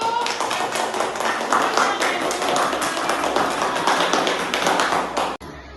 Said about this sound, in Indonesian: Tepuk tangan untuk kelompok visual anak ibu.